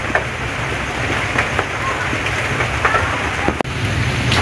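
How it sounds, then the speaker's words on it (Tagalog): Steady, dense hiss of heavy rain fills the whole stretch, with a few brief knocks and clicks standing out above the constant downpour. "Sobrang lakas po lagi ng ulan."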